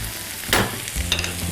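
A brief burst of sizzling in a pan with green beans and garlic, a short crackle and stir against a steady background hiss.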